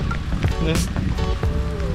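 Rain falls on a fishing trip near Astana, a dense, steady patter close by, with voices mixed in over the downpour.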